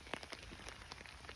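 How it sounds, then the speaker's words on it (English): Rain patters steadily on an open U.K. farm field during a metal-detecting outing, scattered drops tapping close by over a soft, continuous hiss, faint and brief. "It's raining again."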